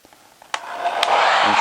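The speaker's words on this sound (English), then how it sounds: "We need our trusty hair dryer." A hair dryer on its high setting, used to melt wax for wax art: a click, then a steady rising whoosh of blowing air that continues loudly and evenly to the end.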